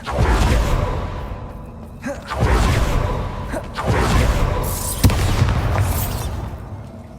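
Bombarda explosion spells from Hogwarts Legacy erupting in heavy, booming blasts, several in sequence roughly every couple of seconds, each with a whooshing rumble that fades before the next strike.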